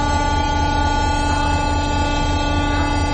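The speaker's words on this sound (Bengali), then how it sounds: "দেখেন একটু হর্নটা শুনুন" A WDP-4 locomotive toy train sounds its horn in one loud, sustained, steady electronic tone with a harmonic buzz, close up and unbroken for the whole stretch.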